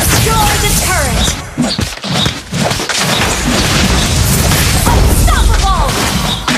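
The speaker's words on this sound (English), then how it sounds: "Your team destroyed a turret!" A turret is destroyed in a video game with a loud, booming explosion and crashing impacts, followed by dense, sustained battle noise and a second burst of effects near the end.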